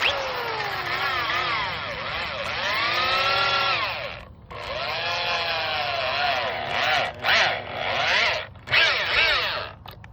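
A power tool drives a lag bolt into the frame of a wooden pull-up bar, loud whining bursts that rise and fall in pitch, running steadily then stopping and restarting in several short pulses near the end.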